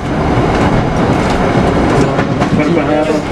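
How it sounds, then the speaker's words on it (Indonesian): Serayu Pagi passenger train pulling into a station, a loud, steady rumble of rolling wagons with faint wheel clatter, close and continuous. "Sepanjang kereta api Serayu pagi maka tiba dan berhenti di stasiun Sasaksa."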